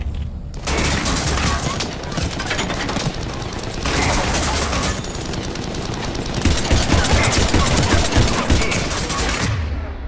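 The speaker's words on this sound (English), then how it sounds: "why he shooting at me though" Dense, rapid enemy gunfire in Mass Effect 3's Citadel DLC, loud sustained bursts with brief gaps lasting about ten seconds, with a player's voice faintly underneath.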